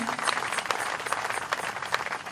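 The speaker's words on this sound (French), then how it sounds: "Clap your hands to the Lord." A congregation at a church service claps hands together, a dense, steady wash of applause that continues evenly throughout without a break.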